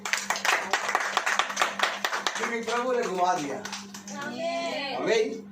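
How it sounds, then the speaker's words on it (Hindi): A church congregation claps in quick, rhythmic bursts for about two seconds, then the clapping fades as someone speaks over a sustained low hum, with another voice joining near the end. "ताली होनी चाहिए"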